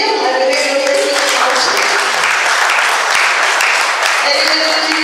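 Dense, steady audience applause at the official opening of a world-flavors gastronomic event continues loudly for about five seconds, with voices mixed in.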